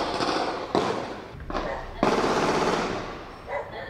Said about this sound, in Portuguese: pode ser até uma metralhadora, uma arma longa